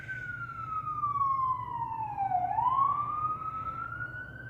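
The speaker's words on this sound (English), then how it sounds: "every time there's always a police siren going through" A police siren wails past on a Brooklyn street, its pitch sweeping down and then climbing again as it goes by, over a low rumble of traffic, fairly loud and without voices.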